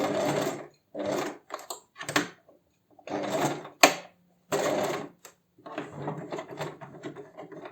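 Sewing machine stitching a seam on a fabric tote bag, running in several short bursts with brief pauses between, close and fairly loud, with no talking.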